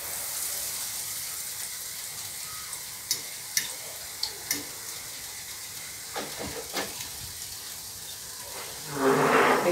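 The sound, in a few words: potato maakouda frying in hot oil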